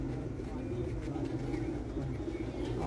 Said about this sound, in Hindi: पांच कबूतर बैठ गए हैं और छठा भी नीचे है